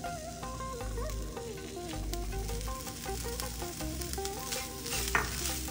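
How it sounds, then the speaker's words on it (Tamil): Grated coconut lightly roasted over a medium-low flame in a pan for kadala curry, giving a steady soft sizzle with scraping stirs throughout, close and continuous with background music. "Now we can add the coconut."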